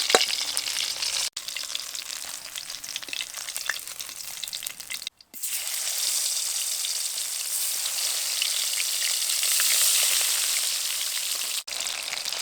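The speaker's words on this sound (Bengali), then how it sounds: "মাছগুলো ভেজে নিয়েছি, এবার তুলে নেব।" Koi fish frying in hot oil, a steady loud sizzle with crackling spatter that runs almost throughout, broken by a few brief gaps, and swells slightly near the end.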